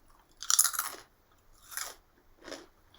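Crisp kettle chips crunched close up, three distinct bites or chews with bright crackling, the first loudest, separated by brief quiet.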